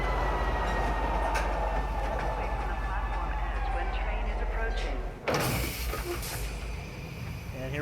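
A metro train pulls into the Metro Center station in a video game, a loud rumbling hum of rolling carriages that cuts to a hissing, airy stop, with a voice heard over it.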